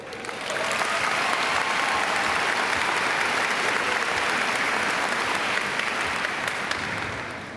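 A graduation audience at Langham Creek's 2017 ceremony breaks into steady, dense applause after the staff introductions, a continuous wash of many hands clapping at an even level for several seconds before easing off.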